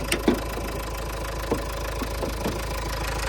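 A 2004 Opel Vivaro van's 1.9 dCi turbodiesel engine idles steadily and smoothly, a low continuous rumble with faint knocking, with a few soft clicks and taps nearby.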